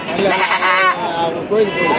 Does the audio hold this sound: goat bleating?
yes